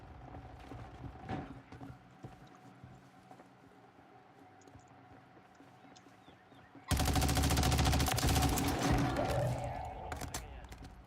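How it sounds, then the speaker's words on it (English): Riveter shotgun fired in a video game: a sudden loud, dense burst of blasts erupts and holds for several seconds, sitting over quieter game ambience and movement sounds that precede it. "Is that a riveter shotgun?"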